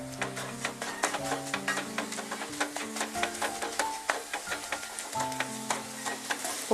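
Spice powder roasts in sesame oil, sizzling steadily while a spoon scrapes and stirs the pan in a quick, irregular rhythm, close and alone.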